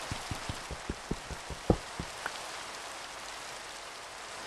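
Rain falling in the Minecraft survival game, a soft steady hiss of drops with a run of quiet evenly spaced taps near the start, no one talking.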